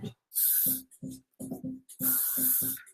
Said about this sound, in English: And then we'll just put even more hairspray in it because that's definitely what it needs.